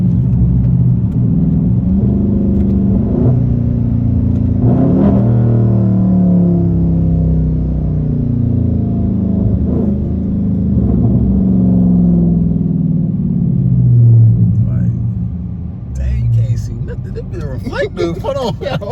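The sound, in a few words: Dodge Challenger engine rumbling and downshifting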